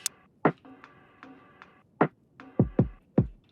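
Lo-fi drum groove run through a high pass filter near 1500 Hz, with thin, clicky hits and short tonal stabs repeating in a steady loop, close and alone without any voices.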